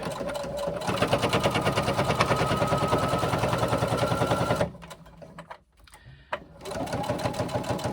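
A sewing machine top stitching a bag strap hammers out a rapid, steady stitch close up, pauses for a couple of seconds with faint handling noise, then resumes stitching.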